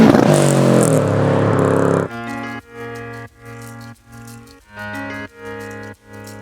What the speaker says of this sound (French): Mais pour le moment, on passe à l'essai de la bagnole.